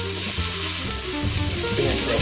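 Spinach sweating in a hot pan gives a steady, close sizzle that holds at an even level throughout, with a low tonal hum running underneath.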